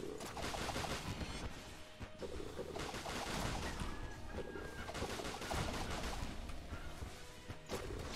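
Chickens clucking amid chaotic gunfire, crashes and explosions in the shooter game Enter the Gungeon, a dense, continuous din of battle with the bird noises buried in the mix.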